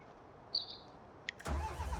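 Engine start of a large M450 mower in the Farming Simulator 19 video game, a short click and whir followed by the low engine catching and rumbling into a steady idle.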